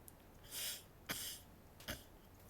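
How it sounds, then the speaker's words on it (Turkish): A person sniffs their nose sharply, close to the microphone, in a few brief breathy bursts with quiet pauses between them. "Burnumu çektim sadece."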